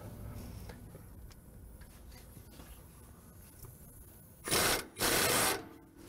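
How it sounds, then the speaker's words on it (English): Loosening a pinch bolt on a heavy-duty truck during a wheel alignment camber adjustment: quiet ticking and tool handling, then two loud, close bursts of whirring impact-tool noise near the end. "we need to loosen this pinch bolt."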